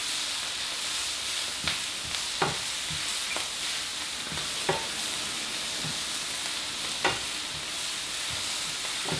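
Seasoning being gently stirred through lamb in a steadily sizzling pan, a constant frying hiss broken by sharp scraping taps of the utensil at irregular intervals, close up with no talking.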